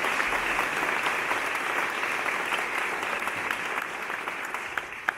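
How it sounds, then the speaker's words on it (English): Sustained applause from a town hall audience, a dense and steady wash of many hands clapping across the whole stretch, fading slightly toward the end. "if we could give them a round of applause"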